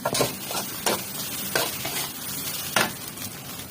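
Food is stir-fried in a pan at a made-to-order street food stall by a school, with a continuous close sizzle broken by several sharp scraping strokes of a spatula against the pan.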